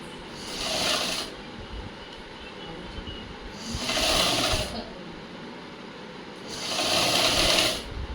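A sewing machine stitches a blouse sleeve seam in three bursts of fast whirring, each lasting about a second and a half, with quieter pauses between them, heard close and with no speech.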